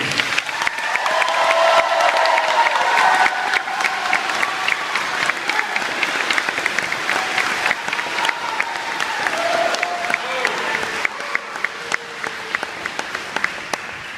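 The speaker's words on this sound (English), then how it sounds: "Please join me in a round of applause for this dynamic team." Audience at a military graduation ceremony gives sustained applause, dense crowd clapping continuing steadily for the whole stretch without letting up.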